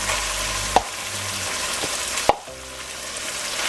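Vegetables hit a hot pan for a tater tot hot dish, a steady close sizzle broken by two sharp clanks of a utensil against the pan.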